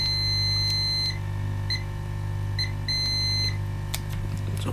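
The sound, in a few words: beeping from a continuity test on a laptop motherboard capacitor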